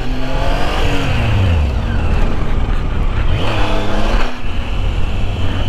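A Triumph Tiger 800 XC motorcycle revs hard in a short open space, its engine note rising and falling loudly and continuously, hitting the rev cut at the top, close to the listener with no talking.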